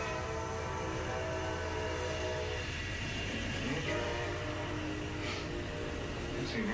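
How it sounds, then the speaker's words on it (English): An Amtrak train rumbles past near a courthouse, a steady loud rail roar with sustained horn-like tones running through the whole stretch. "And cue the train."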